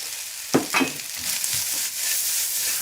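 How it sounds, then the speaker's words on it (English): Steady hiss of rice sizzling in a hot, smoking pan, with a couple of brief stirring scrapes near the start, close and fairly loud. "Okay, it's smoking. Chuck in a little bit of rice. There we go. Sizzle, sizzle, sizzle."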